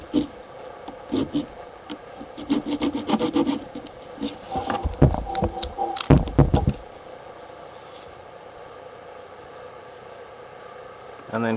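A hand saw rasps through the wooden handle of an old hatchet in a few uneven strokes for several seconds, then stops, leaving quiet background hum.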